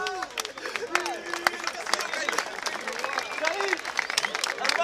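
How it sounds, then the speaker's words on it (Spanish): Lively applause from an audience at a Uruguayan music show, steady clapping over crowd chatter and scattered shouts, with voices calling out under the noise throughout. "¡Fuerte aplauso para acá!"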